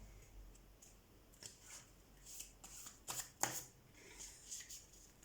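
Tarot cards are shuffled by hand in quiet, irregular riffles and soft flicks, with a few crisper snaps near the middle. The sound is close but faint against a hushed background.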